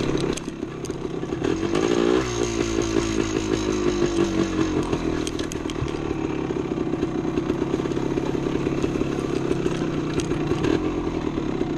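A 1975 Yamaha DT250 motorcycle rides a woods trail, its engine revving up loudly near the start and then holding a steady, buzzing, close drone with rhythmic throttle pulses and occasional clatter, no voices.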